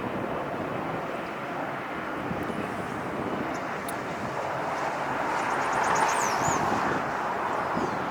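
An airliner passing near LAX during planespotting at the airport, a broad steady roar of jet engine noise that holds throughout and swells slightly toward the end, with some wind noise over the microphone.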